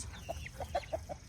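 A Rhode Island Red hen gives a run of soft, evenly spaced clucks close by, about five short notes in quick succession over a low, steady background murmur.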